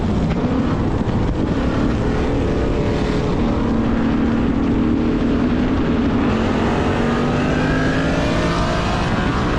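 An S650 Ford Mustang with an MT82 manual gearbox accelerates hard in a street race, its engine roaring loud and close under heavy wind rush, pitch climbing and shifting through gears.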